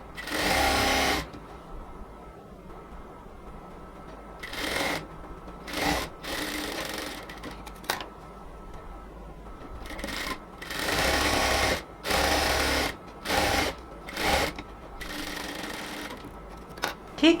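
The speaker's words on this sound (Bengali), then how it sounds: "লক স্টিচ দিয়ে এবার আস্তে আস্তে ধরে ধরে পুরোটার মধ্যেই এবার আমরা সেলাইটা দিয়ে আসব।" A sewing machine stitches palazzo pants with a lock stitch in repeated loud bursts of rapid whirring, separated by short pauses as the fabric is guided slowly along the seam.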